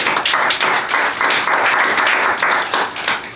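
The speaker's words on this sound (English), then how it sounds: "Round of applause for them." A room of attendees at an evening entrepreneurship session gives a loud round of applause, rapid close clapping with small surges and dips throughout, no voices on top.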